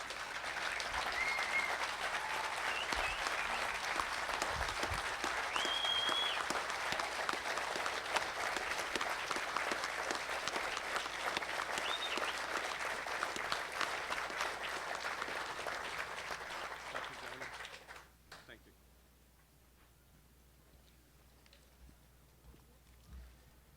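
A crowd gives sustained applause honoring Vietnam veterans at a driver appreciation event, steady and fairly distant clapping that fades out abruptly near the end into quiet room tone.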